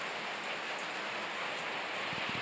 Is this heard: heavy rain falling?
yes